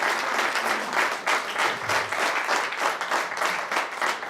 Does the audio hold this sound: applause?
yes